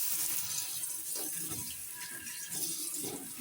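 Tap water running steadily while rinsing hair after a Sophora Collection Air Repair hair mask, a continuous splashing hiss with small sloshing bursts, fairly close and unbroken.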